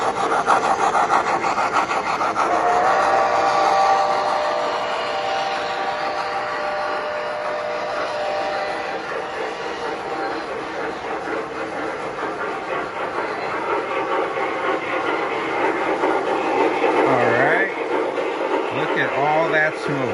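Model Climax Shay locomotive running with its sound system on, a continuous close mechanical chuffing and rolling rumble with a faint whistle-like tone early on, steady throughout.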